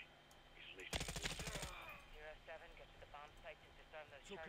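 A sentry gun in the Modern Warfare III campaign fires a rapid burst of about a second, loud and sharp, followed by continuous talk.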